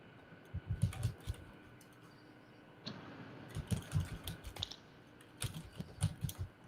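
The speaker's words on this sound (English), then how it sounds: "I hear a keyboard." Computer keyboard typing in three bursts of quick clicking keystrokes, separated by short pauses, fairly close and moderately quiet.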